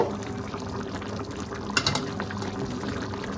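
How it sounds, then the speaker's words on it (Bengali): Coconut milk pours into a cooking pan of sautéed masala, giving a continuous close bubbling, liquid rush for a few seconds with no voices. "নারকেলের দুধটা দিয়ে দিলাম"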